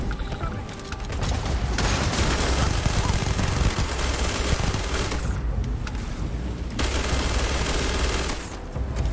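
Rapid automatic gunfire in the space shooter game Starfield: dense, continuous bursts rattle loudly and close, with short pauses between volleys.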